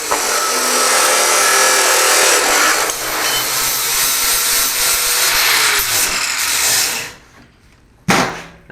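A power saw cuts steel bracket stock to length for a go-kart roll cage, a loud continuous grinding rasp lasting about seven seconds before it cuts off, followed by a brief sharp burst near the end.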